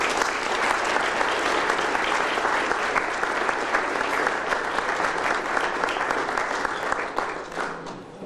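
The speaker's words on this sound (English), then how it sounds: "Please, a great round of applause for retired General John Hall." A full room gives a round of applause at a veterans banquet, loud and sustained clapping that holds steady before tapering off at the end.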